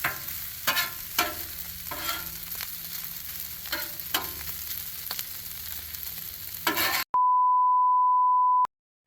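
Broccoli hits a hot Blackstone griddle and sizzles steadily, with several scraping stirs. The frying cuts off abruptly and a long, loud electronic beep tone follows.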